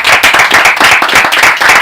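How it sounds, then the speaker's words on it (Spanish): An audience at a book talk claps for the author in loud, close, rhythmic applause that carries on without pause. "Un aplauso para ella."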